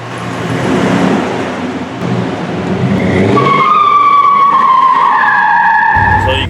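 A rebuilt Dodge car pulls away on a test drive, engine revving loudly up close, then tires squeal in a long rising and falling screech as it accelerates hard.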